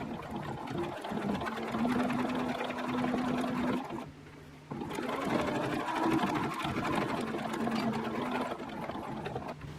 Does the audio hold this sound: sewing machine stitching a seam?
yes